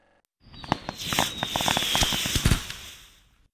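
Fireworks in the Disney Learning Phonics Quest video game: a burst of sharp crackling pops and bangs over a rising whistle, loud and dense for about three seconds, then fading.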